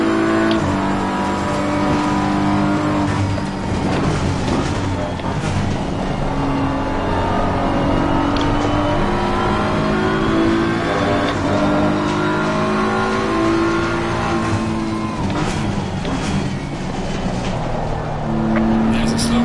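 Racing car engine in a video game, revving loud and continuous with rising and falling gear-change pitch sweeps throughout, a voice talking over it at times.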